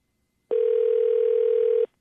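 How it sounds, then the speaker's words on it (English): A single steady telephone tone sounds for just over a second, clear and electronic, starting and stopping cleanly in an otherwise quiet line. "Okay, phone's ringing."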